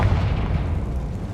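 A Confringo spell blast in the Hogwarts Legacy video game, a short, heavy, booming burst with deep low rumble that lasts about a second, with no voices.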